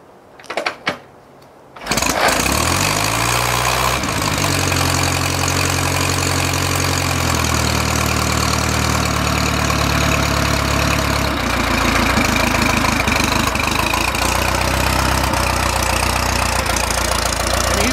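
A 1935 Indian Four motorcycle with no muffler fires up after a brief crank and settles into a steady, even idle, close and fairly loud, holding a smooth four-cylinder rumble to the end.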